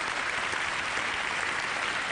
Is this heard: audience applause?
yes